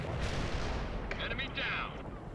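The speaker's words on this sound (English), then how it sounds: "Zulu 9 are firing mortars at the target coordinates." Mortar fire in World in Conflict: a deep rumbling boom and rolling blast, with a radio voice speaking over the explosions.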